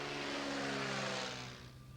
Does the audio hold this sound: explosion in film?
no